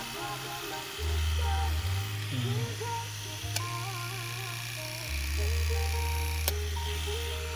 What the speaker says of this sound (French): Ça entre maintenant aisément sur mon rasoir et les lames tournent facilement